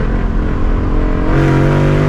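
A Ford Mustang GT S650 fitted with a new aftermarket exhaust gives a short, loud burst of revving, the engine rumble rising steadily near the microphone with no talk.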